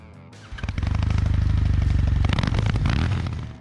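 Kawasaki W800 retro parallel-twin motorcycle starting up and revving, a sharp crank then a loud, close, rhythmic thumping exhaust that swells and eases off.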